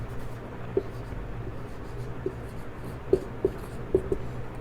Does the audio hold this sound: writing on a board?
yes